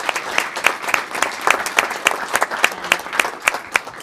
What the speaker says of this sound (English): these students another round of applause.